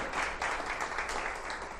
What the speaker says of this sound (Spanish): ¿Usted le puede dar un aplauso a Dios por eso?